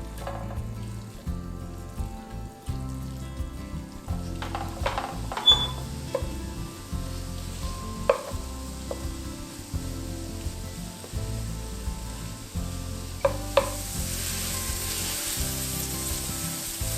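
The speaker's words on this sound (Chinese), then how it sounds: "把它进去炒到金黄色" Crumbled tofu stir-frying in vegetable oil gives a steady close sizzle throughout, with scattered scraping and clacking of a utensil stirring the pan.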